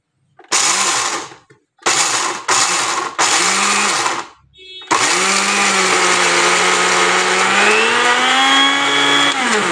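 Loud mixer blender grinding about 100 grams of peanuts in short bursts at first, then running continuously with a rising, straining whine.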